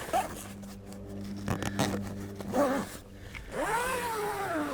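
A zip runs along a shower dressing room tent bag in several quick close pulls, some short scratchy tugs and then one longer smooth drag, with no talking.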